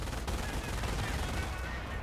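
Rapid machine gun fire in Company of Heroes, the World War II strategy game, during the D-Day Normandy landing. It forms a continuous, loud, dense rattle throughout, with no talking.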